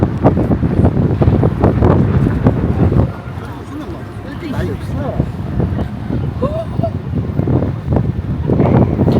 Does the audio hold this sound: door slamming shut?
no